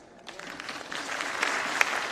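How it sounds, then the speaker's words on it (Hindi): A crowd at a joint Mahatma Jyotiba Phule and Dr. B. R. Ambedkar Jayanti celebration claps steadily, the applause swelling from soft to fuller over about two seconds, heard at a distance and without talk. "अब ताली आप बजा रहे हो"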